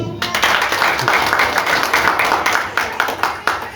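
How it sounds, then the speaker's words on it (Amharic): A wedding congregation in a church breaks into steady, loud clapping that fills the room and continues evenly throughout. "አጨብጭቡ።"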